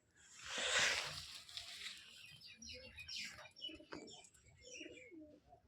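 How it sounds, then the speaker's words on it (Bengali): Rajshahi Giribaz pigeons, a female among them, give soft throaty coos and rustling calls in a loft, a louder burst early then several quieter murmured phrases close by, no talking. "এটা মাদি, এটা মাদি কবুতর"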